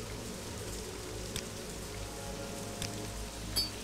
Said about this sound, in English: now it's morning and it's still raining